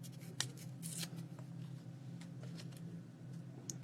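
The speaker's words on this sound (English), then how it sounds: "this piece I need to tear down quite a bit" A piece of paper for a rust-effect art journal page is torn down by hand, giving short, close, crackly rips and rustles in irregular bursts over a low steady background hum, with no talking.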